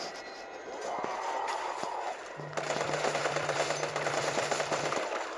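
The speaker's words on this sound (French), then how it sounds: "Et ouais, je tire dans les jambes." Automatic gunfire in the video game Resident Evil 3, a sustained rapid burst of shots under a continuous game soundscape with a droning background, loud and steady for several seconds.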